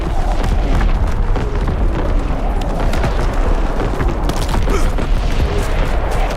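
Artillery shells explode in the PC game Call of Duty WW2, forming a loud, continuous rumbling barrage of deep booms with no pauses throughout.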